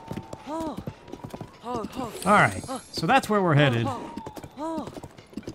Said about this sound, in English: Doing that Breath of the Wild thing where you gallop 2 inches,